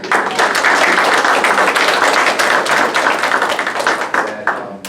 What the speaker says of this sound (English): No one can give Jeff a round of applause.